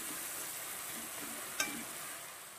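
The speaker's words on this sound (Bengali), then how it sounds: "কষিয়ে তারপরে আমি এই ডালটা ছেড়ে দেব। তো এক হাতে তো দেখানো যাবে না ছাড়াটা, তো ভেজে আমি সুন্দর করে ছেড়ে দেব" Lentils sauté and fry in a pan, giving a faint, steady, hissing sizzle with one brief sharp clink partway through.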